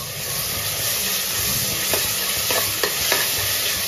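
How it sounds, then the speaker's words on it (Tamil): Onions sizzle and fry in a pan while being stirred for paneer biryani, giving a steady close hiss broken by a few sharp scraping stirs near the end. "இதை நல்லா பொன்னிரம் ஆறு வரைக்கும் நல்லா வதக்கலாம்."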